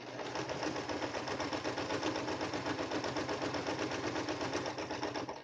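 Sewing machine stitching a cloth pantiliner along a pattern line, a steady, fast mechanical needle chatter running continuously and fairly close with no pauses.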